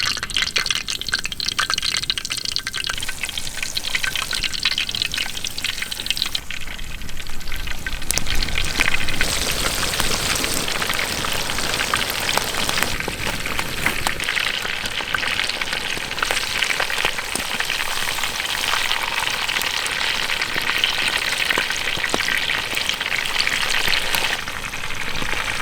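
Chicken coated in crushed spicy Lays potato chips deep-frying in hot oil, a loud, dense, continuous crackling sizzle that bubbles steadily for the whole stretch and shifts slightly in intensity, with no talking.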